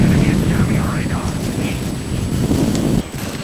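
A chopper gunner helicopter in Call of Duty MW2 multiplayer produces a steady, loud rotor and engine rumble that fills the whole clip, dropping slightly near the end.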